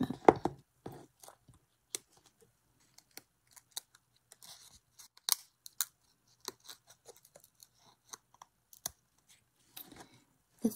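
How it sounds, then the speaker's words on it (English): Quiet, close snips and crisp paper rustles as scissors trim paper for an ocean-scene shadow box painting project, scattered irregular cuts separated by near silence. "I'll just trim that."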